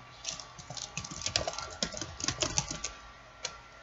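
Quick, uneven keystrokes patter on a computer keyboard, close and crisp, with brief pauses between bursts and no talking over them.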